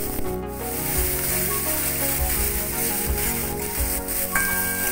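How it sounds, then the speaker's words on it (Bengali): Ground paste of garlic, chilli and nigella fries in oil with salt, giving a steady close hiss and sputter under music throughout. "তেলের মধ্যে যে নুন দিয়ে দিয়েছি তার মধ্যে বাটা মশলাগুলো সব দিয়ে দিলাম"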